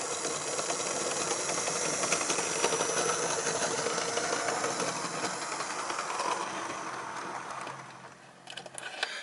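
A Hornby 0-4-0 model steam locomotive runs on a track with a continuous whirring, rattling mechanical hiss that fades toward the end, followed by a few small clicks.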